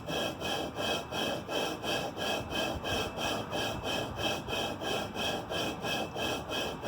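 Engine valve being lapped into its seat by hand on a cylinder head, a rhythmic back-and-forth rasping grind repeating about twice per second, close and steady with no talk.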